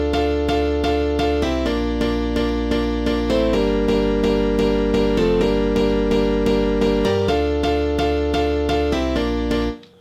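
Piano chords following a bass root note in an FL Studio house drop, playing alongside a steady pulsing beat and deep bass, loud and continuous for about ten seconds before cutting off, with no talking.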